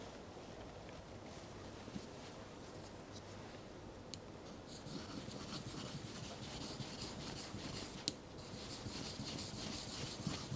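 A carving tool for Japanese woodblock printmaking is being sharpened on a sharpening stone, giving a faint, steady scraping rub with a few brief ticks and no talking.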